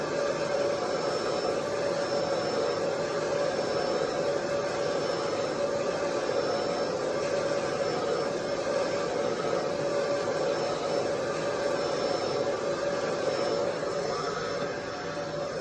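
A hair dryer blow-drying hair, a constant loud whooshing hum held steadily throughout with no breaks, close to the listener.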